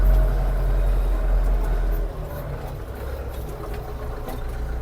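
A Scout 404 walk-behind tractor engine drones loudly and close by while plowing a garden plot, a steady low chugging that drops a little in level partway through and then carries on.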